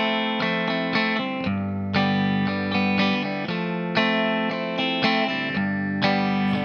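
Electric guitar playing a picked pattern from a song, a low bass note followed by strummed upper strings, repeating in a steady rhythm with a bright, slightly distorted tone.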